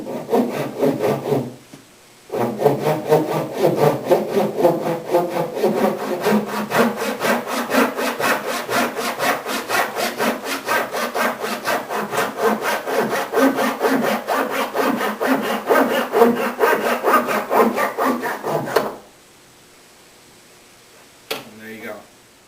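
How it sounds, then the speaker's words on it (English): Hand saw cutting wood veneer banding for a veneered executive desk, rapid even back-and-forth strokes close up for about sixteen seconds, then stopping. "to minimize the amount of splintering you might get when you saw it"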